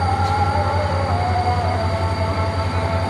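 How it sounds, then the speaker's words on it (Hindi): The Karakoram Express, a Pakistani passenger train, pulls out of the station with a steady low rumble and a sustained high metallic tone from the rails. No one speaks. "42 डाउन कराक्रम एक्सप्रेस रवाना हो रही है"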